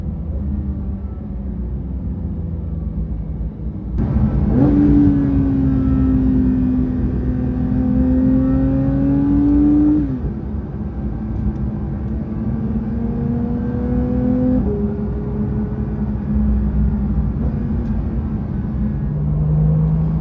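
A Porsche 911 GT3 (992) engine revs and accelerates with a deep rising growl, easing off and surging again several times, close and loud throughout.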